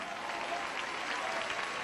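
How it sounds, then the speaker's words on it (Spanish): Congregation applauding in a church, a steady, continuous wash of many hands clapping at moderate volume, heard from a little distance with no distinct voices. "Ese aplauso sea para el Señor Jesús"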